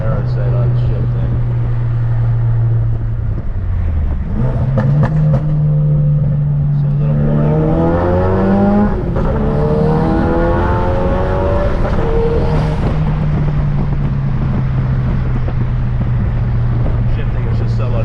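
A 2017 Ford Focus RS fitted with a Damond rear motor mount, its engine droning steadily and climbing then dropping in pitch through gear shifts, loud and continuous from inside the car.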